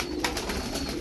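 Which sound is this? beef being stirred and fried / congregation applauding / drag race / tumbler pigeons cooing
tumbler pigeons cooing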